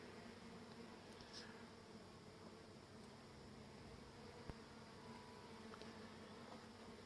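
Honey bees at the hive give off a faint, steady buzzing hum as they perform their dance, sounding distant and quiet throughout.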